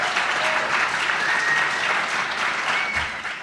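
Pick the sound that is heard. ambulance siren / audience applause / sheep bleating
audience applause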